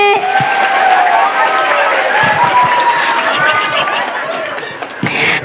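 An audience at an outdoor religious gathering in Temanggung breaks into a continuous wash of applause mixed with crowd chatter and laughter, loud and close, thinning toward the end.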